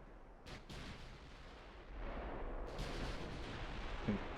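Heavy battleship guns firing in a Royal Navy naval warfare game, a continuous roar of booming salvos with a sharp report near the end, no talking.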